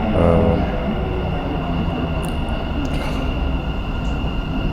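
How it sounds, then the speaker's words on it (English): A Dubai Metro train rumbles in with a steady roar of wheels on rails and faint high squeals, a continuous loud mechanical wash. "So when the metro arrived"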